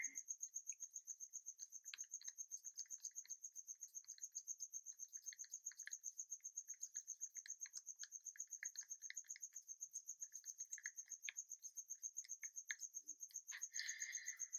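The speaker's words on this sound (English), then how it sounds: "Again, I apologize for the cricket. He just really wants to live here." Indoors, a cricket keeps up a rapid, steady chirping that stays continuous throughout, with faint clicks and taps in the background.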